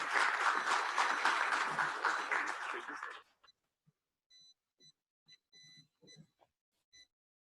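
Applause for the panelists closes a panel discussion on OTT policy and regulation. The clapping is full and steady at first, then stops abruptly and leaves near silence broken by brief faint beeps and small noises.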